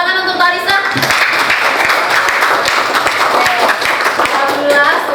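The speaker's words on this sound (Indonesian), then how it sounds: "Tepuk tangan untuk Larissa" A classroom of pupils claps loudly for a classmate, close and energetic, with sharp individual hand strikes over a dense spread of clapping and children's voices mixed in throughout.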